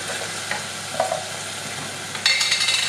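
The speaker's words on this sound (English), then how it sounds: "a tin of chopped tomatoes, and it goes with a bit of a stir" Chopped tomatoes from a tin stirred into sizzling aubergine mince with crushed garlic, a few close spoon scrapes over steady frying, then a louder burst of sizzle near the end.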